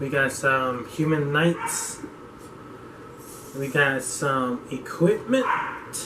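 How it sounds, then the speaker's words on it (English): Several dogs bark and yip repeatedly in the background in bursts, loud and close, while a person talks over them and opens trading cards. "If you hear dogs in the background,"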